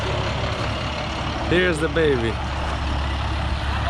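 Tow truck delivering a wrecked Audi A7 Quattro, a loud steady diesel rumble close by as it pulls in, with a brief hiss and whine midway; someone speaks briefly over the engine before it cuts off abruptly.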